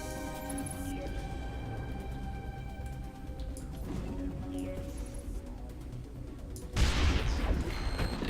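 Gunfire in the video game Mass Effect, rapid bursts of shots layered over electronic hums and game music, moderate in level, with a heavier burst of firing near the end.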